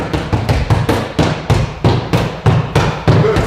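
Hammer fist punches land on a handheld training pad in a rapid, even series of about a dozen heavy thuds, close and loud, during kick and punch drills.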